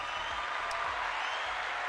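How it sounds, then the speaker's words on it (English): A studio audience applauds during a live fishing talk show, a continuous burst of clapping, even and moderately loud throughout. "Round of applause from the live studio audience for Salty."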